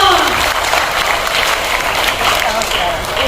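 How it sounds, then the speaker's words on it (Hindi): Steady, loud applause from an audience at a Hindi stage performance about Siddhartha's renunciation, continuous clapping with no pauses throughout. "जोरदार तालियां, जोरदार तालियां"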